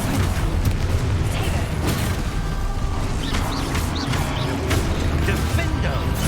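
Confringo spell explosions blast in Hogwarts Legacy, the video game, with booming bursts and pops over dense, continuous game noise and a voice calling out.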